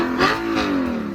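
A V8 car engine revs hard at high RPM, a loud, close, rising howl with a sharp blip of throttle followed by a sustained high wail.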